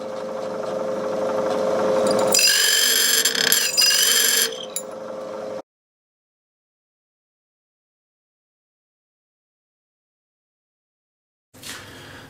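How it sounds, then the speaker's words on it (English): A loud mechanical whirring and grinding of a drill machine biting into the hardened metal of an axe head for several seconds, then silence, with a brief burst of machine noise at the end. "I changed on the little bit more stable drill machine"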